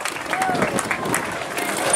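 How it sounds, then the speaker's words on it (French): A spectator crowd at a Belgian moto trial championship event in Verviers claps and cheers for an inter-category rider, a dense patter of applause that runs throughout while a commentator talks over it. "Ça mérite bien vos applaudissements effectivement pour ce pilote de la catégorie inter"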